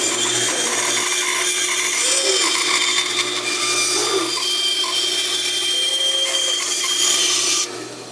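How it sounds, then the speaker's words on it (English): A power saw, likely a bandsaw, runs steadily through a wooden fish carving blank, cutting out the side view with a continuous close buzzing whine and faint rubbing, stopping near the end. "Now I'll come back and cut the side view out."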